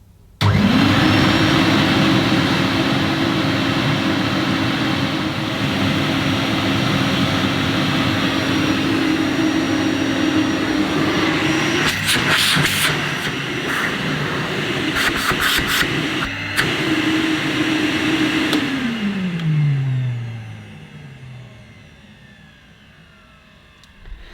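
A 1973 Hoover 507 Conquest vacuum cleaner switches on and runs with a steady, fairly quiet motor hum and airflow rush, a few brief knocks partway through, then winds down as it is switched off near the end.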